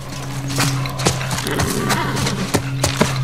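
Horse hooves clop and a horse neighs in The Last of Us on PS5, the sharp hoof strikes spaced irregularly over a steady tonal hum, close and fairly loud, with no talk over them.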